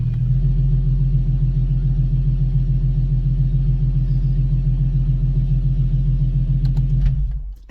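An Infiniti G37 idles close by with a deep, steady, pulsing engine rumble that holds evenly for several seconds before cutting off abruptly at the end, with a few faint clicks as it stops.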